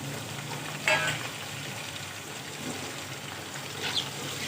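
Chicken pieces sizzle steadily in a pan, browning for a stew, with a soft, continuous frying hiss and a couple of faint clinks.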